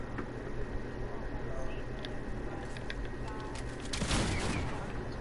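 Two loud shotgun blasts from a video game land close together near the end, standing out over a constant noisy game background with occasional clicks.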